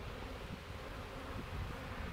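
Honey bees of the Russian strain hum around a new hive, a steady close buzz mixed with light wind noise and no voices.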